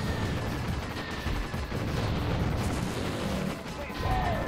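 Rapid gunfire and booming explosions from the arcade shooter Heavy Weapon, a dense, continuous barrage of blasts that stays loud throughout the short stretch.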